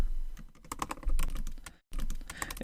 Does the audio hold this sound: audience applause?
no